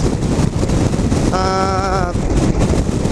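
Loud, rushing wind buffets the microphone throughout while riding a Yamaha XMAX 250 scooter, with a brief tonal whine rising in the middle of the roar.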